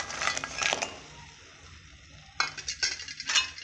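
Toast being turned in a pan with a metal utensil, giving clinking, scraping strokes in two bursts separated by a quiet pause, close and fairly soft.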